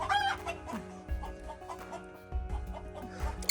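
Hens cluck and murmur nearby in a scattered, uneven chatter, with a low background hum underneath.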